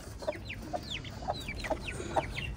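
A hen clucks angrily after being caught, a rapid series of sharp, agitated squawks repeating about twice a second, close and clear over faint background noise.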